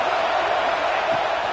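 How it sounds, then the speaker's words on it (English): Football stadium crowd roaring for its defense on a red-zone down: a dense, steady wash of cheering and whooping voices, loud and continuous throughout the short stretch. "this crowd imploring its defense to stand firm"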